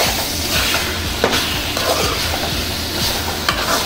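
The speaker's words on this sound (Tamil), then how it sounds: "இப்போ நம்ம இதை நல்லா கிளறி விட்டுருவோம்" Pepper chicken curry is stirred in a frying pan, a loud close sizzle broken by irregular scraping strokes and light knocks of the spoon.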